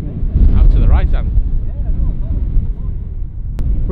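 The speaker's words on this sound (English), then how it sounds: "that's how windy it is" Strong wind on a golf course at North Berwick roars and buffets the microphone in a heavy low rumble, with brief faint voices breaking through.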